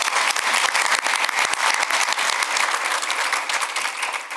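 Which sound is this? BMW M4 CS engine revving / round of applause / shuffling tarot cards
round of applause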